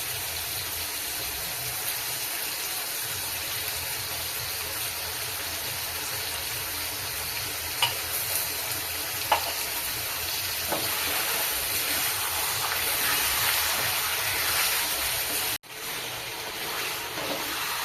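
Chicken for a Bengali-style chicken kosha fries in a pan with a continuous loud sizzling hiss, a few faint clicks of stirring, and a brief dropout near the end.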